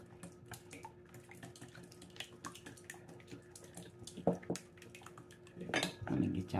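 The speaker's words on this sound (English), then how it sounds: "I have an egg right here. I'm going to go ahead and whisk that." An egg whisked in a bowl while preparing a Southern squash casserole in a home kitchen: rapid, light clinking and tapping against the bowl, fairly close, with a louder clatter of dishes near the end.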